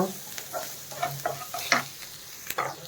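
Masala for an egg roast sizzles in a pan while a spatula stirs and scrapes it in repeated short strokes, close and moderately loud over a constant frying hiss, with no talk.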